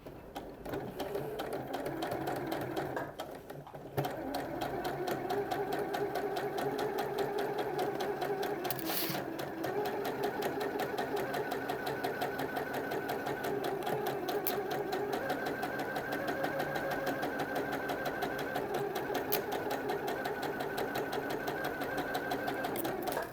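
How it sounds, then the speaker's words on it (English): A sewing machine stitches pocket bags, running steadily and close for the whole stretch with a fast, even mechanical whir and only a brief slowdown near the start. "Just going to sew down to the point."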